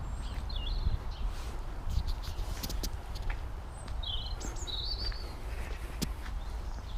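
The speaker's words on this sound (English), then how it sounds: "Nice little bird there." A small bird chirps in short, bright bursts a few times over a faint outdoor background near old railway tracks and a former mill in Bedhampton, Hampshire, fairly distant and quiet.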